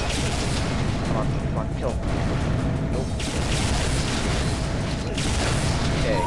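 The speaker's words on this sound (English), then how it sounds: "This is gonna be a one-on-one rocket launcher fight." Rocket launcher fire in an Unreal Tournament one-on-one fight: loud, continuous booming blasts and explosions fill the whole stretch, with a player talking over them.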